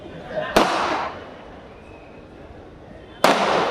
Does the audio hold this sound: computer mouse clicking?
no